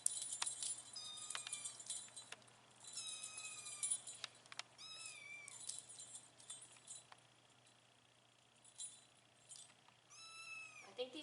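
A group of kittens at an animal shelter meowing, several thin high mews overlapping and repeating from close by, fairly quiet, with a faint jangle of keys in places.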